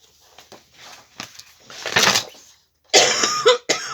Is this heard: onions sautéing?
no